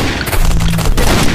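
Gunfire in the mobile survival game Last Island of Survival: a loud, close burst of rapid shots and booms fills the short moment, dense and harsh, with no talking over it.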